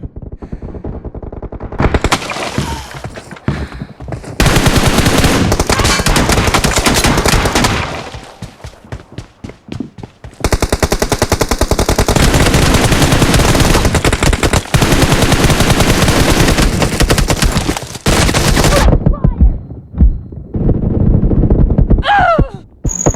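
Loud video-game gunfire in a BGMI/PUBG match: long, dense automatic bursts with short breaks between them and a few scattered single shots near the end.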